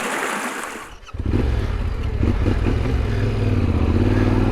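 A Yamaha Ténéré 700 adventure motorcycle is ridden along valley trails. A steady, loud engine drone with wind rushes up close and rises gradually in pitch and level, with no voices.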